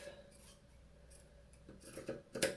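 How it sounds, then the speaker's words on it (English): Scissors snip through the sleeve of a T-shirt in a quiet room: faint, soft cuts that build into a few sharper crunchy snips near the end, with no voices. "we're gonna cut this sleeve off"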